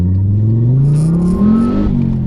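A Ford Focus RS with a 400 bhp tune and aftermarket exhaust revs hard, its pitch sweeping steadily upward in one loud, close run before easing off, with no voices.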